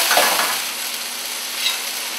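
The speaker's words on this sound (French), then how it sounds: "Et on va flamber donc, pour dégager donc, tous les sucres des champignons." Mushrooms flambéing in a pan in a restaurant kitchen, a broad hiss and sizzle that flares at the start and again briefly near the end, steady in between, with no voices.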